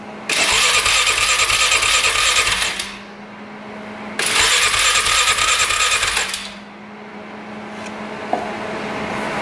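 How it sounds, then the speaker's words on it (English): An ATV that won't start cranks over in two long, loud bursts of starter whirring, each lasting a few seconds, separated by a brief drop to quieter background, with no sign of the engine catching. "Turn this thing over."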